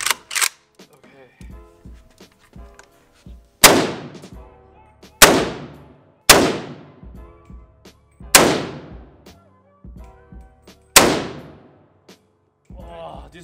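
Repeated AK-47 rifle shots crack loudly and close at a range, six or so sharp blasts spaced a second or two apart, each ringing out, with softer clicks and handling noises in the gaps.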